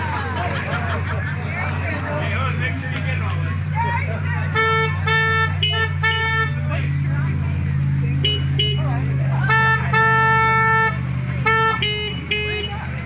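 Car horns honk repeatedly on a street in The Villages, several short toots and longer blasts clustered in the second half, loud and fairly close over a steady engine rumble and crowd babble.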